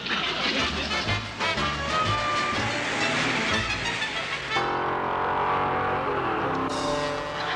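A car speeding along in a 1960s sitcom scene, engine roaring continuously with a loud, busy rush of motor and road noise throughout and no talking.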